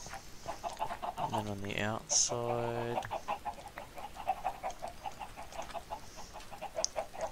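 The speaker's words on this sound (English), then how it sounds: "Ignore all the chickens clucking, I've got to kill them." Chickens on a blocky Minecraft-style chicken farm cluck in a video game, a quick burst of stacked squawking calls up front, then a person talks over faint clucks.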